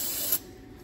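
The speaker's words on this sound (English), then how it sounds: "I'm going to use a little bit of starter fluid." Starter fluid sprayed from an aerosol can into the engine of a 1966 Ford Mustang GT that sat parked for ten years, heard as one short, close, sharp hiss that cuts off abruptly, leaving a quiet background.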